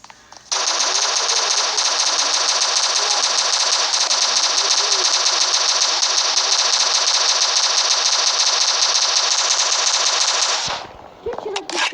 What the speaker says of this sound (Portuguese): Agora tô de fuzil, gente